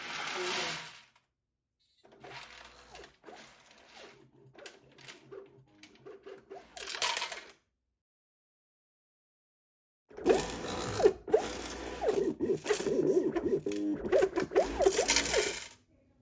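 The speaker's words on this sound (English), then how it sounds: "First, the screws are arranged into a row through a series of plate movements." A 3D-printed fastener counting machine shuffles screws into a row with moving plates, producing bursts of rattling, clicking mechanical motion separated by silent pauses, close and fairly quiet.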